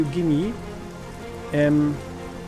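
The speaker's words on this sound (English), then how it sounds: "What do you hear, gentlemen? Nothing but the rain, sir." Rain patters steadily in the video game Strategic Mind: The Pacific, a soft continuous wash beneath two brief bursts of voiced speech.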